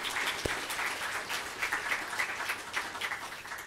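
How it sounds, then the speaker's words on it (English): Audience applause for panelists at the Dubrovnik Forum 2025, a dense, steady wash of many hands clapping throughout, moderately loud in a conference hall. "Let me say one big applause to all the panelists."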